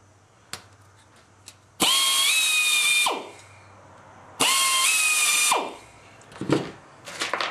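Power drill boring holes in an aircraft nose rib drilling fixture, two loud whining bursts of about a second each with rising pitch, separated by quiet pauses and followed by softer handling clatter.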